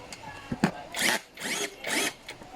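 A power screwdriver tightens screws while an office chair is assembled, giving three sustained whirring bursts about half a second each, close and fairly loud, with a couple of short clicks before them.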